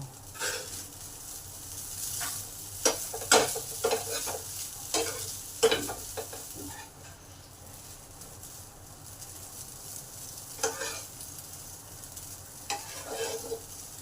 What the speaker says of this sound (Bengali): এটাকে ভালো করে নেড়ে নেড়ে ডিম আর পেঁয়াজের সঙ্গে মিশিয়ে নেবো